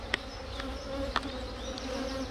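Honeybees buzz steadily during a beehive inspection, a close, continuous hum with individual bees whining past and a couple of sharp clicks from handling the frames.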